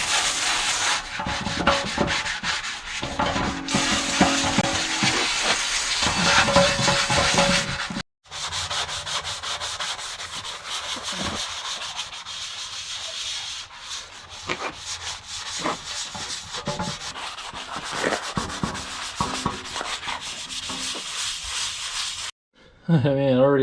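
A sanding sponge with car soap and water scrubs the body of an old Sears air compressor during restoration, making a loud, close, rhythmic rasping rub in long strokes with brief pauses and a voice now and then.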